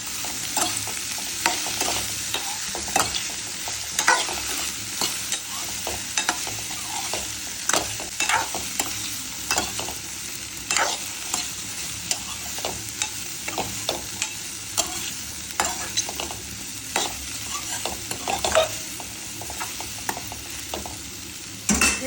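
Okra frying in a pan for bhindi sabzi, stirred steadily, with a continuous close sizzle broken by repeated scraping and clicking strokes of the spoon against the pan.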